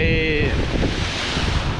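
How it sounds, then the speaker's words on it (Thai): Strong seaside wind roars and buffets the microphone throughout, steady and loud, with a rushing surf-like hiss and a brief whistling tone at the start; no talk is heard. "ปรากฏว่า ลมอย่างแรงเลยครับคุณผู้ชมครับ"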